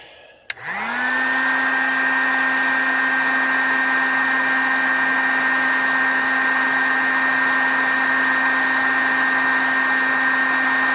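A heat gun switches on with a click and settles into a steady, loud blowing whine, running continuously while it warms the bearings of an OS FS 120 Surpass model engine.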